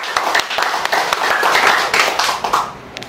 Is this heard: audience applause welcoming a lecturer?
yes